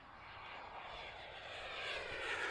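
An RC airplane, a Spektrum Synapse, is flown at full power in gusty wind, its electric motor and propeller making a steady, high whining drone that swells slightly louder toward the end, heard from a distance with no talk.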